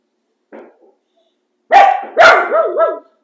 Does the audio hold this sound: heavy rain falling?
no